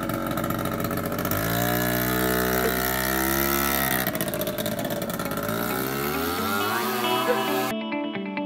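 A scooter engine runs close and loud, its pitch rising and falling with throttle changes before it cuts off abruptly near the end.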